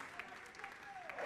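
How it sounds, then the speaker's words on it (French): Brief, faint applause from an audience for a singer at a singing competition semi-final, with a voice faintly heard over the clapping. "Est-ce qu'on peut applaudir encore très fort pour Blessing"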